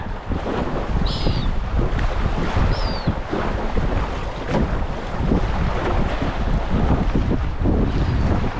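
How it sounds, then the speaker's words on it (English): Strong wind blows outdoors beside the water on a rainy farm, a loud continuous rush with gusty buffeting against the microphone and a faint bird call or two above it. "Now the wind's turned the opposite way, so it's blowing us that way a bit."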